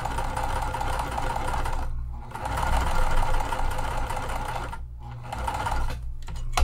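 Sewing machine stitching across fabric at its longest stitch length, running in a steady close mechanical hum and chatter with two short pauses between runs.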